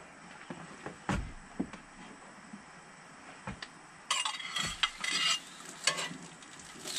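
Sausage sizzles in a frying pan over medium heat at a deer camp on a working farm. A few light clinks come first, then a steady, close hiss of frying takes over.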